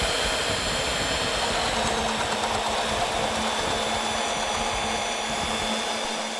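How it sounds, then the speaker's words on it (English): A handheld drill boring a 4 5/8 inch hole into a log with a large bit and a 9/16 inch lead screw, a loud steady grinding drone of motor and cutting throughout, close up. "drill the hole out to a 4 5/8 inch diameter hole using a 4 5/8 bit with a 9/16 diameter lead screw"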